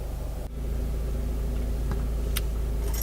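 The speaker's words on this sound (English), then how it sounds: "you have to fast idle the car for 15 minutes" Car engine fast idling while the oil warms before an oil change, a steady low rumble held evenly throughout, near and moderately loud, with a faint click partway through.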